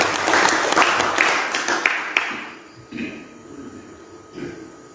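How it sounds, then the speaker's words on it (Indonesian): An audience at a commemoration event bursts into loud applause that lasts about two seconds, then trails off into a few scattered claps and quiet room noise. "Tepuk tangan untuk Pak Eri Rasmanto."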